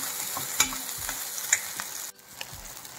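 Masala with ginger garlic paste and garam masala fries quietly in a pan for a potato curry, a soft steady sizzle broken by two sharp spoon knocks before the sound drops lower near the end.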